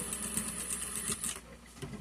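Sewing machine stitching a back-and-forth reverse backstitch on soft fabric for a baby item, a steady fast mechanical whir with rapid needle clatter that stops partway through, close and moderately loud.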